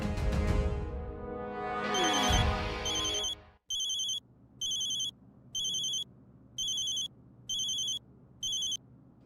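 A phone ringtone in a Hindi TV comedy scene sounds as a steady series of about six evenly spaced electronic ring bursts, loud and close, following a few seconds of busier background sound.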